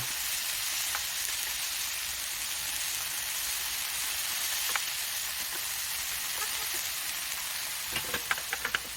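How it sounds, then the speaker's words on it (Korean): Meat and mushrooms stir-fried together in a pan until their juices cook off, giving a steady, even sizzle throughout, with a few light utensil clicks against the pan near the end. "버섯을 함께 넣고 같이 볶으면서 육즙이 다 사라질 때까지 볶아줍니다"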